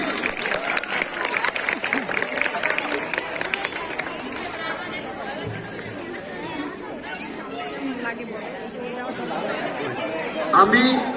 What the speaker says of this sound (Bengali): সবাই মুহিতের জন্য জোরে একটা করতালি